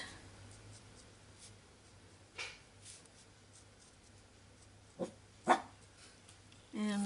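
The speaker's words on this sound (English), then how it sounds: "that's our puppy dog barking in the background" A puppy barks somewhere in the background of a quiet room, giving a few short, faint yaps spaced seconds apart, with a louder burst at the end.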